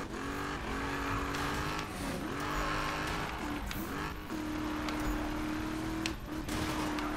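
A racing car is driven in Need for Speed (2015), its engine revving and shifting with bursts of tire squeal, loud and near throughout, with no speech.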